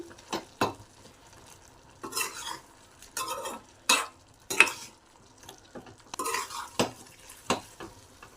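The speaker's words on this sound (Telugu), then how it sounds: "కొద్దిగా మిరియాల పొడి కొద్దిగా చికెన్ మసాలా వేసుకొని ఒకసారి బాగా కలుపుకుందాం" Spoon stirring chicken masala and pepper powder through an egg fry in a pan, heard as a series of short scraping, clinking strokes separated by quiet gaps, close and fairly soft, with no talking.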